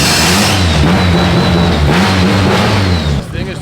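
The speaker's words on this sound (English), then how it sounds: "This thing has such a crazy idle for an SR." A loud SR-engined car idles roughly on a dyno, a lumpy pulsing exhaust note close to the microphone with a steady whine above it, before cutting lower near the end as someone speaks.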